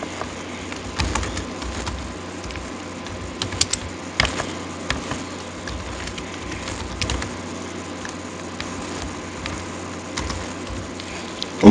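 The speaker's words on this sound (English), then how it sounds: "You just type your buddies' and emails in" Sparse, fairly quiet clicks from a computer keyboard as text is typed into an email field, coming in short irregular runs over a steady low background hum.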